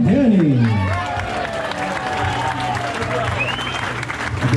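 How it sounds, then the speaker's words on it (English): Wedding guests break into loud applause and cheering for the newlyweds after their first dance. The crowd noise is close and sustained, with tonal music and faint voices continuing underneath. "round of applause for Hillary Danny"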